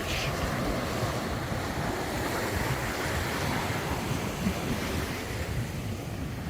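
Continuous surf rolls onto Leeward Beach in Providenciales, a dense, even wash of breaking waves mixed with wind rush, close and steady for the whole stretch.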